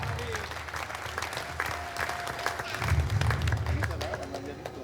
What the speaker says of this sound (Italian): posso chiedervi un forte applauso